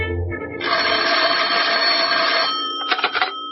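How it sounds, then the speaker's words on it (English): An old-fashioned telephone bell rings in a long continuous burst in an office, followed by a shorter ring, loud and close with no voices. "The phone rang, and I thought twice before I answered it."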